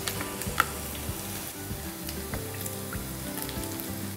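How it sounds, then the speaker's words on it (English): Onions fry in a pan with a steady, close sizzle and crackle, broken by faint scraping stirs, with no talking. "I'm going to cook my onions all for about 2 to 3 minutes until they're nice and translucent"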